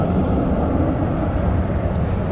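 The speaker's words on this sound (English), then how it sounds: "Another tram, a little more loud, not the new one." An older, louder tram rolls along a Melbourne street, a broad continuous rumble and rattle that holds steady and close for the whole stretch with no voices over it.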